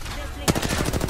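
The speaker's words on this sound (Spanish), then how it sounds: "¡Me están disparando!" Rapid automatic gunfire in Apex Legends erupts after a short quiet stretch, a fast run of close, loud shots rattling on for most of the moment with no talk.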